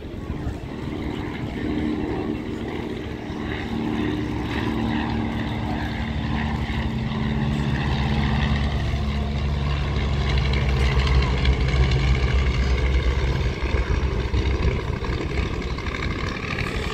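Vintage propeller aircraft, a Ryan and a Tiger Moth, flying past at an air show, with a steady droning engine and propeller hum that slowly swells and holds at moderate distance.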